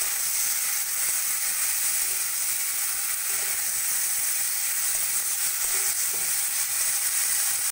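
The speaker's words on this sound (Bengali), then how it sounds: "এবার ভালো করে কষিয়ে নেব।" Cauliflower, beans, ground cumin, grated ginger and tomato sautéing in a pan for a rui fish curry, giving a loud, continuous close sizzle with faint stirring knocks underneath.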